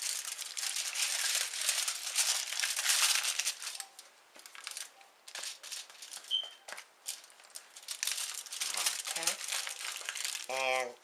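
Aluminum foil crinkles and crunches as hot tamales are rolled and wrapped, the crackle continuous and close over most of the clip, with someone talking alongside it.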